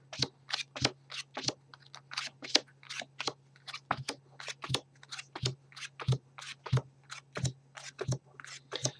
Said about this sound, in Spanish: A continuación cogemos la baraja y tenemos que hacer varios montones, exactamente 13 montones de 4 cartas cada montón.